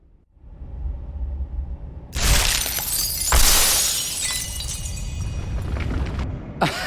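A great temple collapsing in The Dark Eye: Memoria: a low rumble swells into a sudden loud crash of shattering stone and glass, then sustained crumbling debris with a final sharp crack near the end.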